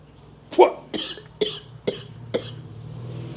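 An old man reciting a mantra breaks into a run of five dry coughs, evenly spaced and close, the first loudest, with a low murmur underneath.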